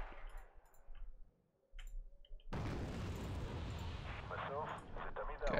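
ZPU anti-aircraft guns firing in the strategy game Wargame: Red Dragon: after a quieter opening with scattered ticks, a dense, sustained roar of rapid fire breaks in abruptly and keeps going at steady loudness.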